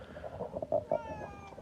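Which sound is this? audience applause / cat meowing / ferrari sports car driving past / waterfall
cat meowing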